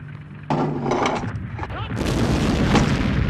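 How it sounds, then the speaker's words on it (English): French artillery fire at the Battle of Verdun in 1916 lands as sudden heavy booms followed by rumbling blasts, loud and close, mixed with narration. "The French artillery now firing at clearly visible targets"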